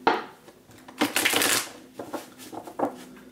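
Tarot cards being shuffled in several quick riffling bursts, close up and crisp, with short pauses between each shuffle.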